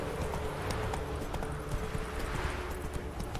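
A horse gallops at full speed in The Witcher 3 video game, with rapid, steady hoof clip-clops close up and continuous throughout.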